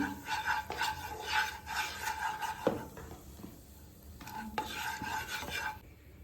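A spoon stirs chili powder and turmeric in a pan for paneer butter masala, with repeated scraping strokes over a faint sizzle, close and fairly quiet, no talking.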